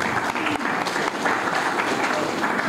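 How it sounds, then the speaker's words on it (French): A crowd at a novel dedication ceremony applauds M. Diallo, loud close clapping with a few brief dips, some chatter faintly mixed in. "Je voudrais que vous l'applaudissiez s'il vous plaît."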